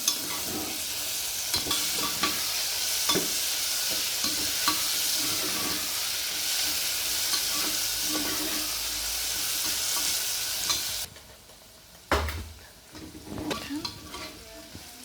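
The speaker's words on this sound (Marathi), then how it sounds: "आता मस्त तेलावर जरा चांगलं पावटं भाजून घ्यायचं" Field beans (pavta) fry in oil while being stirred, a loud steady sizzle with repeated scraping strokes of the spoon for about eleven seconds before it drops away, followed by a few clanks and quieter stirring.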